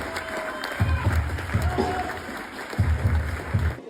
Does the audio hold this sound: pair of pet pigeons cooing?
no